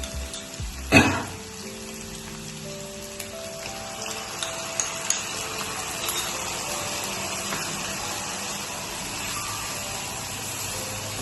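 Pumpkin frying in a pan with ground turmeric, cumin and ginger paste added; a sharp clatter near the start gives way to a constant, even sizzle that holds to the end, with no talking.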